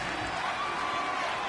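Stadium crowd noise in the Madden 19 football game, a dense, steady roar from a packed home crowd during a Ravens vs Panthers matchup, continuous and fairly even throughout.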